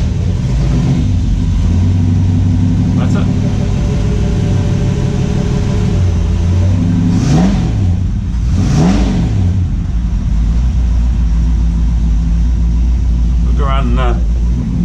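A 1959 Ford F100 engine rumbles loudly at idle through its exhaust, with two distinct throttle blips rising and falling in the middle, close by and steady, with brief talk near the start and end.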